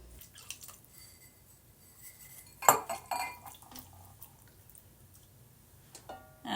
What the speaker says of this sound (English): I'm going to go ahead and put in the shrimp.